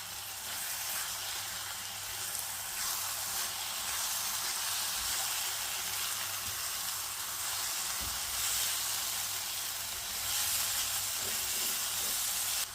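Sugar melts in a pan for Sri Lankan onion sambal, giving a steady bright sizzle and hiss that runs unbroken and fairly soft. No voices break in.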